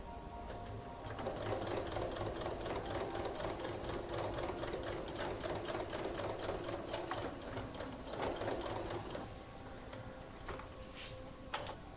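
A sewing machine topstitches a denim jeans pocket in a steady, fast mechanical whir with a faint ticking rhythm. It runs unbroken for about nine seconds, then eases to a quieter hum.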